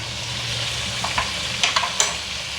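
Ground roasted masala sizzles and fries in a pan for chicken karahi, a steady close hiss with a few soft scraping stirs near the end, no voices.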